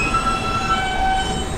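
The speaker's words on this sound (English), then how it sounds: "This is a Brooklyn-bound F local train." A Brooklyn-bound F local subway train in New York runs with a steady loud rumble, faint high wheel squeals drawn out above it, and no voices.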